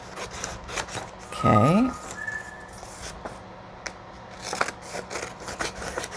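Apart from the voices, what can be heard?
cutting paper with scissors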